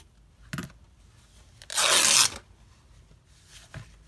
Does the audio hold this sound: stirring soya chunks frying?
no